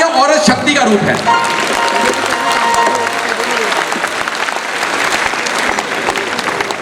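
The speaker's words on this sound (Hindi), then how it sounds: "तो एक बार जोरदार तालियां, औरत शक्ति का रूप है।" An audience at a comedy show in Delhi claps loudly and steadily, a thick wash of applause mixed with crowd noise and some voices, continuing through the whole stretch.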